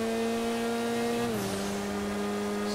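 The engine of a Sentinel Classic car in the GTA V video game drones steadily with a smooth, tonal hum, its pitch dropping slightly partway through as if shifting, faint and continuous.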